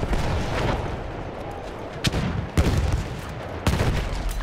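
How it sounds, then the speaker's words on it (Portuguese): Heavy booms of cannon fire punctuate a dense roar of battle noise in Battlefield 1, three sharp blasts standing out over the constant din. "Aí tem uns caras atirando de canhão ali."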